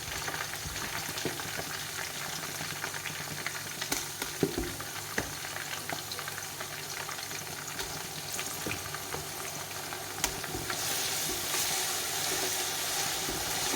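Ginger garlic paste, made from equal parts ginger and garlic, sautéing in a pan for chicken biryani, giving a steady close frying sizzle with occasional stirring scrapes, no voices.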